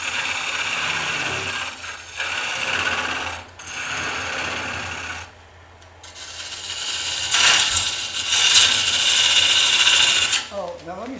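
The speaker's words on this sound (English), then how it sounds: "The cut that I'm making, obviously I'm hogging off wood here" A carving gouge hogs off wood while a mushroom is shaped, giving loud, close bursts of rough scraping and chattering cuts separated by brief pauses, with no talking.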